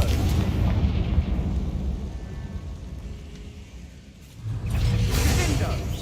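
The Confringo explosion spell goes off in a Harry Potter video game, giving a heavy booming blast that rumbles and then fades. A second burst follows near the end, and faint game voices sit underneath.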